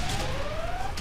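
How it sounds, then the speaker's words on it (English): Robot Wars arena alarm sounding as the pit is released, a steady siren-like tone with a slowly rising pitch, loud and continuous above crowd and arena noise. "That was the alarm you could hear."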